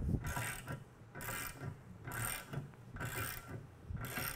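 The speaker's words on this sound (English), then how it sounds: "when you tighten on the jack bolt, the plates are continuing to cantilever back" A jack bolt on an SMP Valve Out flange spreading tool is tightened with a ratchet, four or five evenly spaced bursts of clicking and grinding, close and fairly quiet, with no talk.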